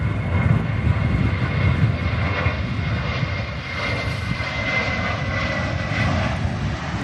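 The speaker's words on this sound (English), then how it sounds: "Off goes the Vueling Airbus A320. Heading back to Barcelona." A Vueling Airbus A320 jet takes off from Manchester Airport in gusty storm winds, a steady, broad engine roar at moderate distance, with wind rumble underneath and no talk.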